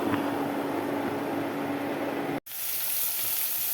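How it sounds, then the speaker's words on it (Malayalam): Okra and green chilli frying in coconut oil with popped mustard seeds, a steady close sizzle that cuts out briefly before resuming with a brighter hiss. "കടുകൊക്കെ പൊട്ടിക്കഴിഞ്ഞപ്പോൾ വെണ്ടയ്ക്കയും പച്ചമുളകും കൂടെ ഇട്ടു കേട്ടോ"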